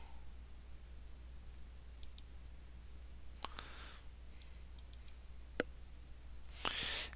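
Computer mouse clicks while working in a LibreOffice Calc spreadsheet, a handful of faint, sharp clicks scattered over a quiet background hum.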